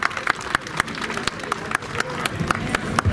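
A crowd at a Sunday morning boating event welcomes a guest with clapping, bursts of hand claps and short applause repeating across the moment, with voices mixed in underneath.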